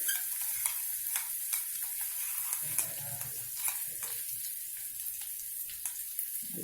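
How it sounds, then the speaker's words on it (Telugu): Telugu tempering (popu) for ponnaganti leaf chutney sizzling in a pan on the stove while being stirred, a steady close hiss with scraping stir strokes, faint and continuous, no voices. "ఇప్పుడు పోపులో వేసేయాలి."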